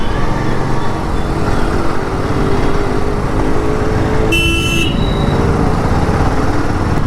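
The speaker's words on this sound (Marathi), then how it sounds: "बघा, आहे थोडं ट्रॅफिक आहे इकडे." Mumbai road traffic heard from a Himalayan 450 motorcycle: a dense, steady roar of engines and road noise, with one short horn honk sounding midway and no talking.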